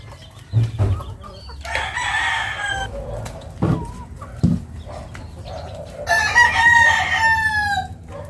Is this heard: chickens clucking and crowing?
yes